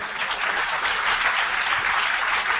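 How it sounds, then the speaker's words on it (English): Steady audience applause fills the room, a dense even wash of many hands clapping at moderate loudness with no voices over it. "Can we give this uncle a big round of applause?"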